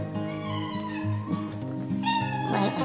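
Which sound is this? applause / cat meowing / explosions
cat meowing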